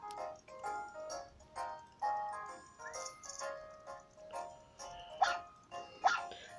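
Small cartoon dogs barking and yipping in the Nintendogs + Cats video game, a toy poodle among them, a string of short bright barks repeating over a busy backdrop of game music.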